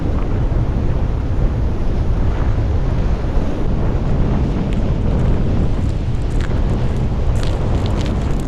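Steady, loud mountain wind gusting up to 60 miles an hour buffets the microphone, a constant low roar with rushing gusts and no voices.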